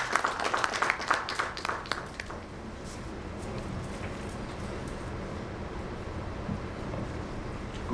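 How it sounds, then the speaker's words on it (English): Applause from the audience at an education summit inaugural session welcoming a university vice chancellor to the stage, a burst of clapping at first that thins and fades into a quiet hall with low background noise. "huge round of applause for Martin"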